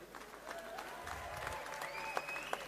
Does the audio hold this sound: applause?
yes